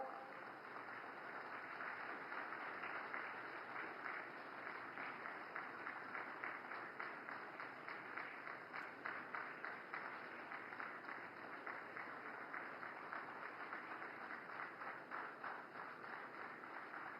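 A crowd applauds at a railway station ceremony flagging off a train running from Purulia to Anand Vihar Terminal, heard as steady, fairly faint and distant clapping that continues throughout.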